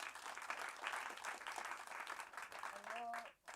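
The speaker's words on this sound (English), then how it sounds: "so we'll give them one more round of applause" A startup event audience gives a round of applause for the mentors, clapping that fills the room and fades at the end, with a voice speaking over it.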